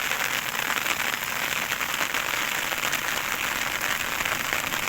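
Heavy rain pours onto a road where rice lies spread out to dry, a dense, continuous hiss of drops striking the surface, loud and unbroken with no voices.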